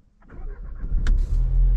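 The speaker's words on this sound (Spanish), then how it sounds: "Ahí se enciende ese motor 2 litros turbo de Volkswagen" A 2023 Volkswagen Jetta GLI's 2-litre turbo engine cranks and catches after a push-button start, with a short whine, a bright click, then a loud rising rumble settling into a close, steady idle.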